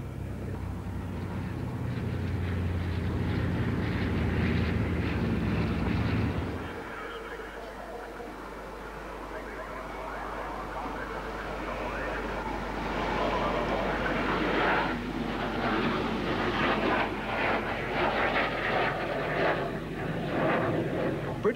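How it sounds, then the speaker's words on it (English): A squadron of Orion aircraft wheels overhead at an airshow, a rumbling engine drone that cuts off sharply and is replaced by a thinner, distant swelling roar as the planes pass, with a voice talking over it. "a squadron of Orions wheel and swoop overhead."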